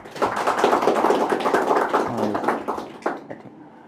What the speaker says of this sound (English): Clap for them also.